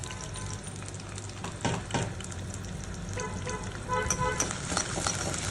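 Slit ivy gourds (dondakaya) fry in oil in a pan with a steady, dense sizzle and crackle, stirred now and then, continuous throughout with no talking.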